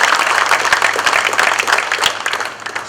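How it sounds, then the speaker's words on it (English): Outdoor crowd at a fire department 9/11 memorial ceremony gives a round of applause for the sound technician, steady close clapping throughout that fades slightly at the end. "They give a round of applause for Ski."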